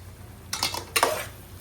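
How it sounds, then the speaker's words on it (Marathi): Utensil scraping and clinking in a pot as rice is mixed with salt and coriander for Agri-style prawn rice, two short bursts of stirring, close and fairly quiet with no talk. "आता आपण मस्त मिक्स करून घेऊया"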